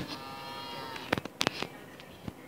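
A cow moos in the Minecraft video game, a few short game-sound lows with brief sharp thuds in between, faint and fairly close over a quiet background.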